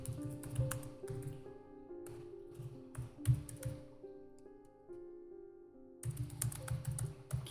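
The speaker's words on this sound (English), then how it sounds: "Can you hear me typing?" Computer keyboard typing in short clattering bursts of keystrokes, fairly close, separated by a quiet pause mid-way, with a steady low background hum.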